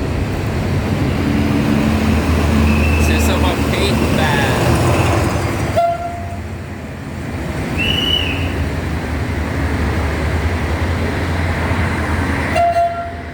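Inside a moving train in Turkey, a loud steady rumble of wheels on track fills the carriage, with a brief tonal squeal and faint background voices.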